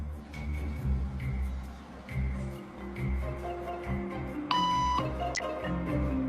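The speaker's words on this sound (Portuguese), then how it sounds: "quando escuta o bip" In a waiting room, short electronic beeps repeat at a regular pace, then a longer, brighter tone sounds, all over a low background murmur.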